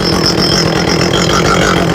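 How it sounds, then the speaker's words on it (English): An Echo CS400 chainsaw engine idles steadily and loudly nearby, a continuous even running drone with no voices. "She's idling mostly okay."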